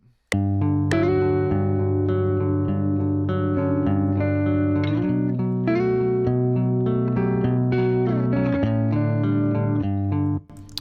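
Sustained electric guitar chords ring out heavily processed with distortion and shimmering modulation, changing every couple of seconds before cutting off abruptly.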